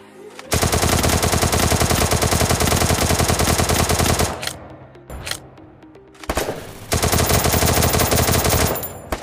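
Two Thompson submachine guns fire together in the video game Free Fire, sustained loud automatic bursts with short pauses between volleys, close and dense with no talking.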